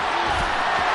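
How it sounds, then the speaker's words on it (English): A stadium crowd at a televised football game roars steadily ahead of a big third down, a dense, loud, unbroken wall of cheering with no gaps. "the crowd getting into it as we come up on a big third down"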